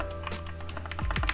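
A quick burst of close, crisp keystrokes on a computer keyboard as a service restart command is typed while setting up a DNS server on Debian.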